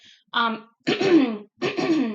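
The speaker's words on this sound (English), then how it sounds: "how much I've had to clear my throat in the last couple of seconds" Three separate harsh throat-clearing bursts, close and fairly loud, each lasting about half a second with short silent gaps between.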